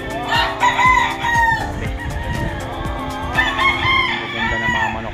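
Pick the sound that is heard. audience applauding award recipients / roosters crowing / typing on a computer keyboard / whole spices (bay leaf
roosters crowing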